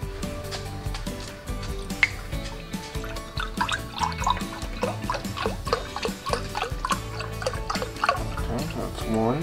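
Chicken broth for pumpkin soup pours into a pot in drips and splashes, with stirring or tapping sounds mixed in and people talking over it.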